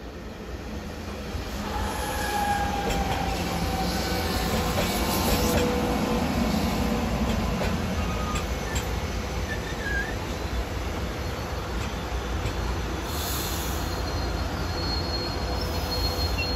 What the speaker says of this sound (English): Slowing down, going around the curve, approaching Grundy Interlocking.